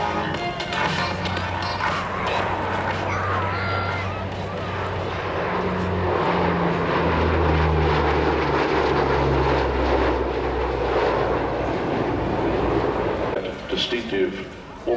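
A Lockheed Constellation four-engine propeller airliner passes at an air show, its engine drone rising to a loud, low, guttural peak mid-pass before fading, with a commentator talking over it.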